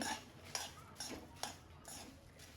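Puffed rice (mamra) is stirred in a heated pan, with a few distinct scraping clinks of a utensil against the pan spaced about half a second apart over a soft rustle, close and quiet.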